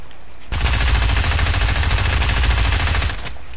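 Sustained automatic gunfire in a video game, a loud continuous burst of rapid shots lasting about two and a half seconds, close and dominant, starting and stopping abruptly.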